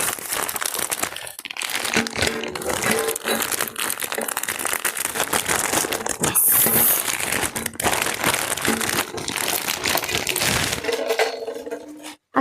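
Tightly packed parcel wrapping being torn and pulled open, a loud, continuous crinkling and crunching of plastic and paper close by, with sharper tearing bursts throughout and no talking.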